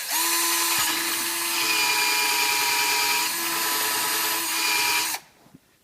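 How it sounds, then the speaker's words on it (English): A power drill boring into the plastic side of a mini space heater whirs steadily at high speed for several seconds, close and loud, its pitch dipping briefly, then cutting off abruptly into near silence. "put my drill bit in, drill on the side"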